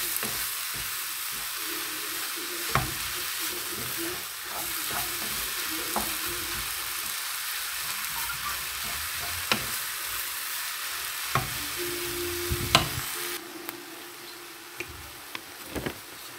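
Savoury filling for Ramadan stuffed briouats sizzling and frying in a pan, with steady crackling broken by repeated scraping stirs of a spoon, close and fairly quiet throughout.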